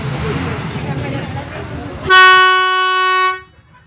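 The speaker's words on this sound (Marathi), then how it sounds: "भोंगा वाजलेला आहे, तर आमची बोट निघाली।" A boat's horn sounds at departure, a loud, steady blast for about a second after background chatter and rumble, then cuts off.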